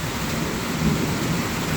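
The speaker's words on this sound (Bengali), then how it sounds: "বজ্রপাতের শব্দ আপনারা পাচ্ছেন সম্ভবত।" Heavy afternoon downpour hisses steadily, with a low thunder rumble swelling underneath throughout, loud and unbroken with no talking.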